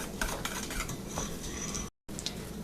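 A utensil scrapes and clinks steadily around a bowl, stirring pudding mix to break up clumps, close up and continuous with brief bumps against the sides and a short dropout near the end.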